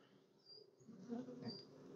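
Honey bees buzz around an open Apimaye hive during a spring check, a soft, close hum with individual bees droning past and swelling slightly louder midway.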